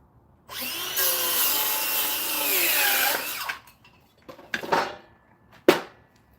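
A hand saw cuts off a small curved piece of wood for a flowerpot project, a steady close rasping stroke run lasting a few seconds, followed by a few shorter, sharper cutting bursts with gaps between, no talking.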